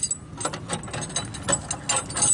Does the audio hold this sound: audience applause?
no